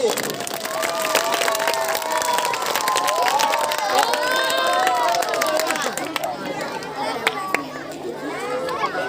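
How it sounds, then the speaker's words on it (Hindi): An audience at a school farewell ceremony applauds and cheers for children, with dense clapping and excited shouts. A voice speaks over the crowd, and the applause thins near the end. "जोरदार तालियां इन बच्चों के लिए।"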